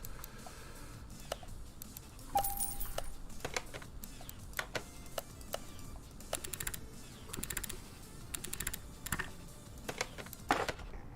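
Typing on a computer keyboard while playing Car Mechanic 2021: quick, uneven bursts of clicking keys, close and fairly crisp, with brief pauses and a few louder taps, no voice.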